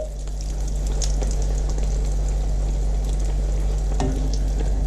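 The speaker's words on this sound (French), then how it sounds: "Donc il gonfle un petit peu dans l'huile, il va prendre un aspect bien doré." Mini kachori stuffed with peas fry in hot oil, making a dense, steady, close bubbling sizzle with a few crackles and a brief clink near the end.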